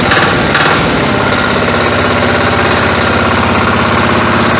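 A walk-behind tractor's small engine runs loud and close with a rough, rapid chugging throb, steady throughout.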